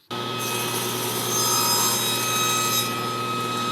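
A saw blade cuts steadily through a piece of wood on a miter setup, a loud continuous whining buzz with grinding rasp, close and alone for the whole stretch.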